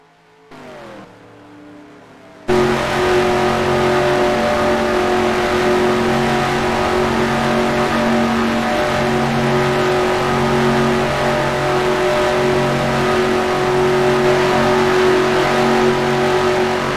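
NASCAR stock cars race at Daytona in the NR2003 racing game, their engines droning loud and steady at high revs after a brief quieter start, with no talk over it.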